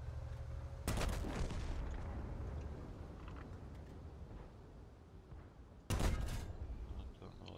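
Two heavy cannon blasts from tanks in World of Tanks boom out loud and close, spaced several seconds apart, over a steady engine rumble.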